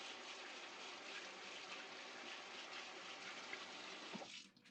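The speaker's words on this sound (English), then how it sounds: "put it into a sieve like this, and then we're going to rinse it through some cold water" Cold tap water runs over basmati rice in a sieve, a steady close rushing stream that keeps on evenly and cuts off near the end.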